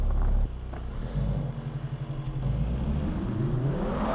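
A 2023 Mercedes-AMG C63 running in race start mode, its engine holding a steady, loud mid-range drone after a sharp drop in level, with slight wavering in pitch and no talking over it.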